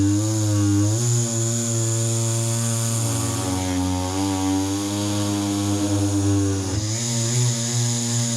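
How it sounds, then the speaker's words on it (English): Small reciprocating saw cutting out damaged material on a car bumper, a loud steady whining buzz with a strong harmonic drone that dips briefly at the start and near the end of the cut. "I'm going to use my little reciprocating saw"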